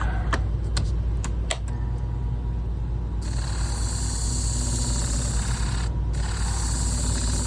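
A hair chunker blade is sharpened on 1200 grit abrasive, making a steady, close, continuous grinding hiss that turns brighter and harsher partway through, with no talking.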